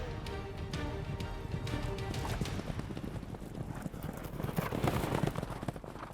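Horses' hooves clip-clop steadily as Kok Boru riders move onto the playing field, a dense, continuous clatter of many animals with busy outdoor ambience and a faint whinny.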